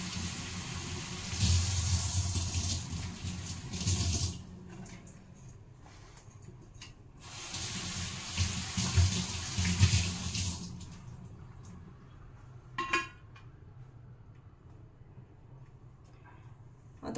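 Tap water runs in two long, steady bursts while plant leaves are rinsed by hand, with brief splashes and drips in the quieter stretches between.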